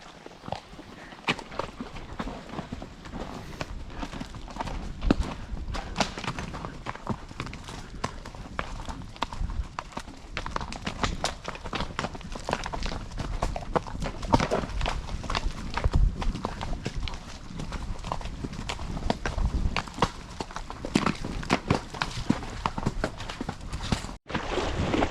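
Horses walk a deep, muddy trail at Whitewater Memorial State Park, their hooves giving a steady, close clip-clop that runs without a break amid outdoor noise.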